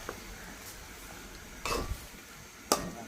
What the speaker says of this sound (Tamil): மஞ்சள் தூளை போட்டு ஒரு கலக்கி விட்டால்